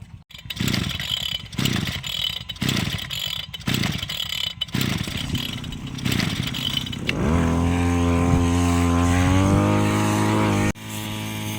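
Brush cutter engine buzzing in repeated bursts as it bites into grass, then revving to a steady high whine before cutting off abruptly.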